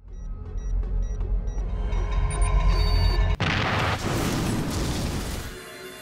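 A film explosion goes off suddenly after a low droning rumble with thin tonal beeps, bursting into a loud, broad roar that lingers and slowly fades.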